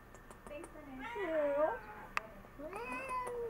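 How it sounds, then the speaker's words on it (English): A cat meows several times indoors, with drawn-out, wavering cries, one longer and one shorter, and faint taps and a sharp click in between. No voice is heard. "Come here, Kitty."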